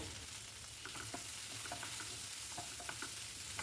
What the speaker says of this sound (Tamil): தக்காளி சேர்த்து நல்லா வதக்கி விட்டுருங்க.